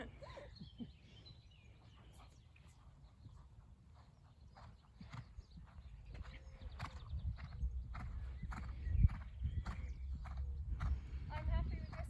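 Horse hooves canter around a showjumping arena in a rhythmic, muffled drumming that grows louder and nearer, with faint birdsong and a coach's voice speaking intermittently over it.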